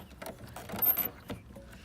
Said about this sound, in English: turn it counterclockwise to the left towards you, and then you pull it out